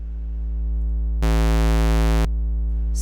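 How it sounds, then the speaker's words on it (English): A synthesized triangle wave tone, a steady buzzy pitch with soft muted harmonics, sounding for about a second amid a low constant drone. "This is, again, a triangle wave."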